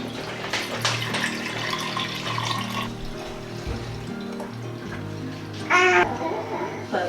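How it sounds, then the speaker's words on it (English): Homemade vegetable broth strained and poured into airtight containers, with a steady running-liquid wash, a brief louder splash near the end, and faint voices in the background. "Then strain the scraps and pour the nourishing veggie broth in airtight containers in the fridge."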